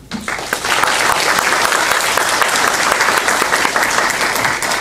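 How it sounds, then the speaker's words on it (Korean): Loud, dense audience applause fills the room at a university startup-support lecture as a guest professor is welcomed, swelling quickly and holding steady without talk. "큰 박수로 부탁드립니다"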